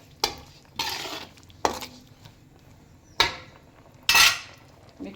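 Spoon stirring sambar powder into a sizzling capsicum and eggplant stir-fry in a pan, a series of about five sharp scraping strokes with scattered clinks between them and a low sizzle underneath.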